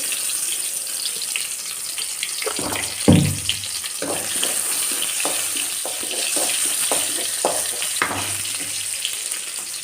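Oil sizzles and spits in a pan while tempering for a drumstick-leaf fry, with steady crackling and a few louder bursts as ingredients and stirring disturb the hot oil.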